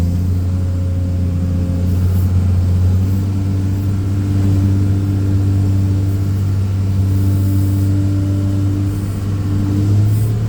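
Vehicle engine revving hard and steadily as the wheels lift and spin, a loud continuous droning rumble with no talking.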